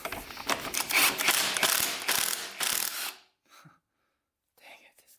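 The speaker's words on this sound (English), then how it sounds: "my good flywheel pullers is getting stripped" A flywheel puller ratchets on a rusty barn-find Honda XR100 dirt bike, giving rapid repeated metallic clicks for about three seconds, then near silence with a few faint soft noises.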